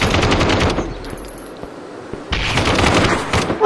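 Rapid automatic gunfire from the VR shooter Aim XR rattles loud and close in two dense bursts, split by a short lull with a few scattered shots.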